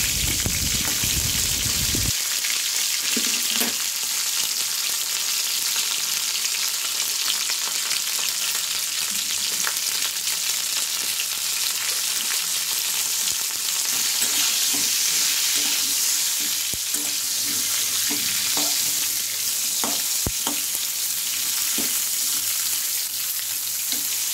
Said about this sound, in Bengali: এবার আমরা তেলের মধ্যে ফুলকপিগুলো দিয়ে দিলাম।